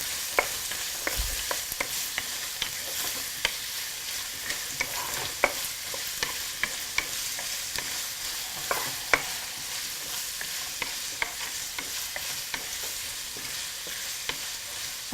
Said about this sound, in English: we can saute this for a minute